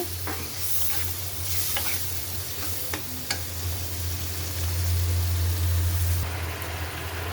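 Spice masala and sour yogurt fry in a pan while being stirred, a loud steady sizzle with occasional spatula scrapes over a low hum.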